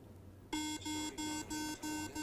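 Loud electronic beeping from a phone navigation app starts abruptly, five rapid tonal bursts in an even rhythm, close and insistent, following a quiet moment.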